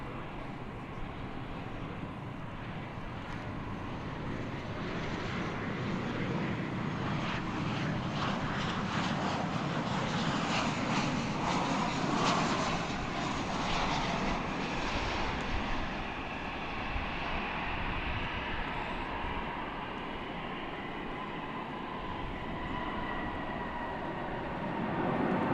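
An airliner on Flight 1757 from McAllen, Texas, approaching DFW Airport near the Founders Plaza monument, sounding as a steady, broad jet roar that swells toward the middle and then eases while staying fairly loud throughout.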